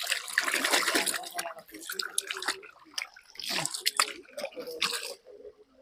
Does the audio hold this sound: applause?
no